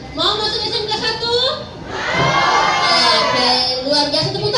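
Crowd of school students at an outreach session, shouting loudly together in response, a sustained swell of many young voices that builds midway and stays strong to the end.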